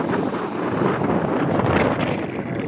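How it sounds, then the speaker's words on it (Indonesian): Steady, loud wind from a storm on a southern-coast beach roaring across the microphone, a dense buffeting rush with no pauses and no voices. "walaupun badai angin melanda"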